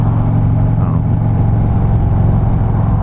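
A 2015 Harley-Davidson Street Glide Special motorcycle engine runs steadily just off idle, a loud, continuous low rumble with even throbbing pulses heard up close throughout.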